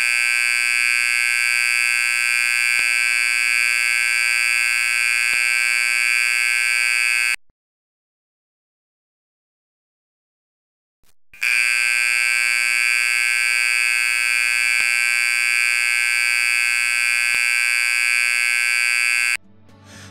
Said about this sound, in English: The signal to find a shelter inside sounds like this.